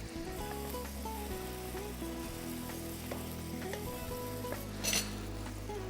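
Steady, continuous sizzling of meat frying in a pan, with occasional stirring and a brief clink of utensils near the end.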